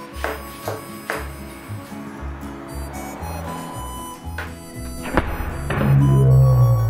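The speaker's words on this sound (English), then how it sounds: "I got these milk bottles with clear milk to punch." A boxing glove punches plastic milk bottles filled with clear milk, making a run of dull, close thunks and thuds, followed near the end by a louder steady hum.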